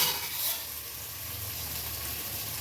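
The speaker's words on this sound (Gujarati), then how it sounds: "ભીંડામાં સેપ હોય એ બળી જાય ત્યાં સુધી સળવા દેવાનું તેલમાં" Okra fries in hot oil, a steady soft sizzle and crackle holding on its own after a brief louder burst at the start.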